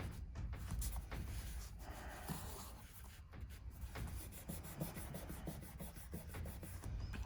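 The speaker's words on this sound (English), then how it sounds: "I'm going to start with some graphite. And I'm going to rub this in." Graphite rubbed onto paper gives a continuous close, soft rasping and scrubbing with slight rhythmic back-and-forth variation and no speech.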